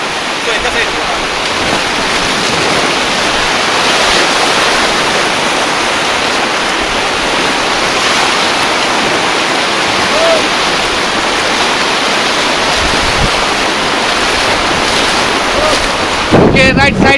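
River water rushes loudly and continuously around a raft during rafting in Kullu, a dense roaring wash with wind buffeting the microphone and a brief bump near the end.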